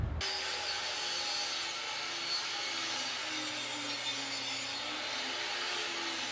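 A table saw cuts a 5/8-inch channel down a plywood subfloor panel, a continuous, close rasping whine that holds steady for about six seconds, with no voices.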